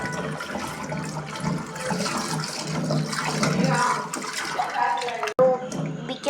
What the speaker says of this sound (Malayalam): ഇതൊന്ന് നമുക്കൊന്ന് കഴുകിയെടുക്കാം.